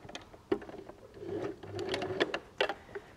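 A sewing machine top stitches the seam of a knot strap bag, its needle running in close bursts with short pauses and soft mechanical clatter, near and clear with no talking.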